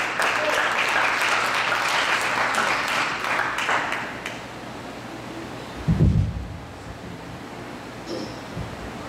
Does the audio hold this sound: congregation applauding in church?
yes